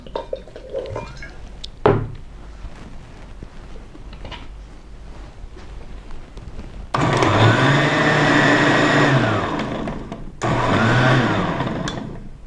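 A blender whirs loudly and steadily for several seconds as it blends spinach with water, stops briefly, then starts again, after some quieter clinks and handling sounds.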